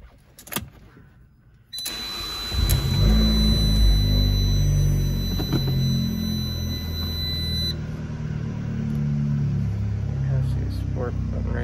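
A Fiat 500 Abarth with 137,009 miles cranks and catches after a few clicks, then settles into a steady, throaty idle close by, with a high electronic whine briefly audible and a voice speaking over it.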